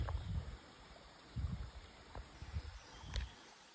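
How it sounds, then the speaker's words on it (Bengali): A mountain stream on Parasnath Hill in Jharkhand flows and gurgles softly, with quiet bubbling surges rising and falling every second or so against a steady hiss, heard from a short distance with no talking. "জলের আওয়াজ পাচ্ছ, কলকলিয়ে যাচ্ছে।"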